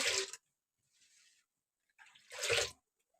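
Water is poured in small splashes into rice flour for ghavane batter: two short, close pours and a faint trickle between them, separated by quiet pauses.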